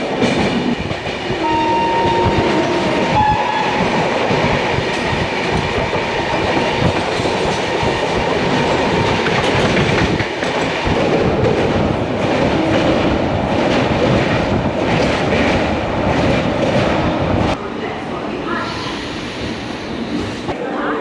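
The Puri Duronto Express rumbles steadily along the rails with rhythmic clickety-clack and a constant loud roar, heard from inside a moving carriage while it rains outside.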